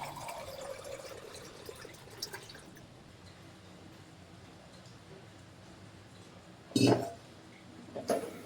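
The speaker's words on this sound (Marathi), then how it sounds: "त्यात फिल्टरचं पाणी घेतलं" Filtered water poured into a steel cooking pot in a home kitchen, a soft trickle and drip early on followed by quieter handling sounds and two short clanks near the end.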